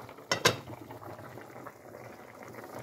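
A pot of curry goat bubbles on a stovetop at low heat, a soft steady simmer with two sharp clinks early on, close and moderately loud with no talking.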